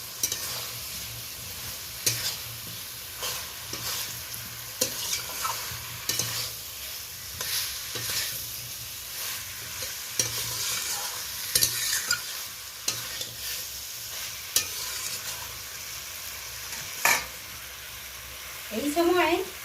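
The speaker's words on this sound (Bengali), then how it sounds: "ভালো করে নেড়ে নিচ্ছি।" A spoon repeatedly stirs pieces of fried pointed gourd, potato and tiger prawns through spices in a pan, with soft sizzling and scraping in an irregular rhythm. Someone talks quietly over the cooking.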